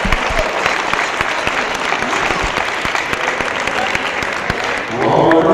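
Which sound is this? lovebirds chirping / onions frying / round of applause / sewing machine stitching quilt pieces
round of applause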